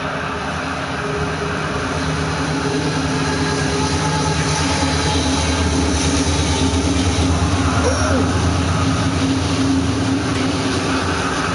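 A train rumbles past behind a backyard, heard through an open window on a hot day as a loud, steady low roar with a faint tonal whine, and someone talks over it.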